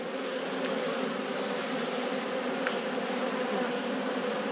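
Honey bees buzz steadily during a late-season hive inspection, a dense close swarm drone that holds constant without pause and no voices present.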